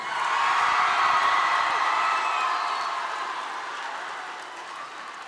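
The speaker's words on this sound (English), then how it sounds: "Give them a great cheer" An audience cheers and whoops for teachers and principals at a school event, a loud crowd roar that swells early and then slowly fades.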